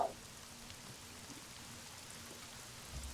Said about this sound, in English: rain begins to start to pour down.